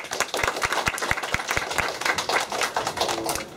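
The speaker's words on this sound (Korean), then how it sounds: "박수 한번 쳐주실래요?" A church congregation claps together in a lively, steady burst of applause, sharp hand claps repeating close and loud across the whole stretch.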